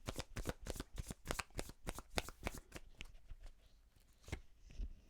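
Tarot cards being shuffled by hand, a close run of rapid riffling bursts that thin out toward the end, with no talk.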